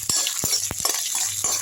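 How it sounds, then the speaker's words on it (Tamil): Garlic sautéing and being stirred in a pan for a garlic chutney, with brief scraping and clinking strokes of a spoon against the pan at an irregular rhythm over a steady hiss. "அதுலேயே வந்து பூண்டு எடுத்து போட்டுக்கலாம். பூண்டு நல்லா வதக்கி விட்டுருங்க."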